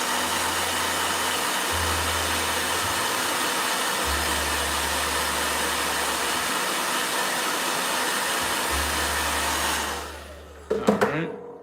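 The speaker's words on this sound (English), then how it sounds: "Blow dryer." A blow dryer runs loud and steady for about ten seconds as a low hum switches on and off beneath a broad constant rush, then cuts out, leaving a few faint clicks and knocks.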